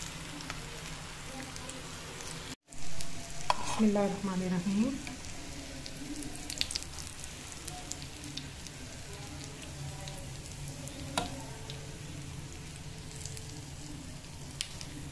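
Beef hara bhara moong dal kababs fry in a pan with a steady, even sizzle throughout, briefly interrupted early on by a clatter and a short voice.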